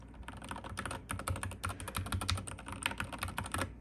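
Rapid, clacky keystrokes on a SteelSeries Apex Pro TKL mechanical keyboard, a steady flurry of sharp clicks close up with no voices.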